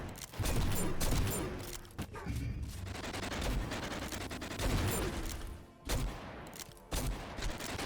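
Rapid-fire revolver in the GTTOD shooter game blasting off dense, overlapping cracks in fast bursts, loud and up front, with brief gaps between volleys.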